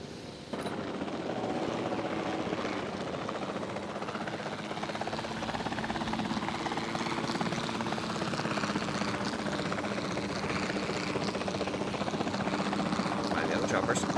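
Helicopters in the Jurassic World Evolution 2 video game, a steady throbbing rotor drone that runs without a break for the whole stretch.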